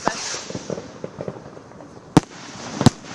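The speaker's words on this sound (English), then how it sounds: "there is fireworks coming directly from beside the bonfire" Fireworks burst right beside a bonfire at a university football match, Salford versus Liverpool Hope: two sharp, loud bangs crack out near the end over a backdrop of scattered smaller pops and crackles.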